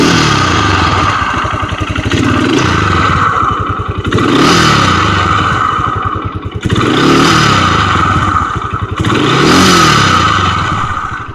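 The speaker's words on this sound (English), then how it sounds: "So that's the CVT transmission or belt problem that I'm experiencing." A Kawasaki Brute Force 300 ATV engine running with a suspected CVT transmission or belt problem, loud and close, with repeated swelling rev cycles and a steady clattering, whining drivetrain noise throughout, no talking.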